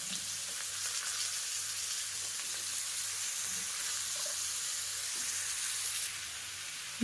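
Onion frying in a pan gives a soft, steady sizzle with a faint low hum underneath, continuous and fairly quiet, easing slightly near the end.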